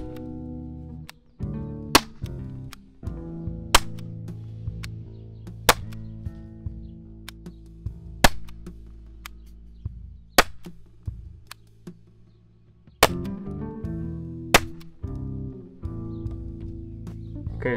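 An HDR 50 caliber revolver fires rounds into a cardboard target, with a dozen sharp, loud cracks spaced every couple of seconds over a steady low background hum.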